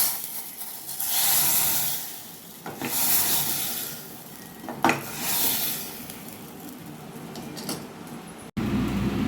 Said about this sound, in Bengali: এবার আমি এটা ডালে দিয়ে দেব। ফোড়নটা আমি ডালে দিয়ে দেব।